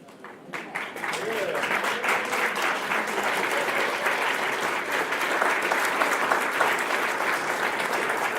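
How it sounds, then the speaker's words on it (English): A community meeting audience applauds Pasadena Vice Mayor John J. Kennedy, with a dense, steady roar of many hands clapping that swells after a brief start and holds loud throughout, with voices faintly mixed in. "give Mr. Kennedy a round of applause"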